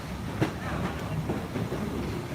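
Strasburg Railroad passenger train heard from on board while riding, a steady low rumble with soft wheel clatter and occasional knocks, moderately quiet and continuous throughout.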